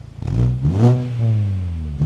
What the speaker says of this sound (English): Let's start it up so you can see how it sounds.